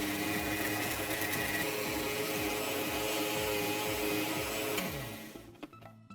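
Loud whirring mixer grinder blending onion into a paste, a dense steady motor roar with rhythmic churning that winds down and stops near the end.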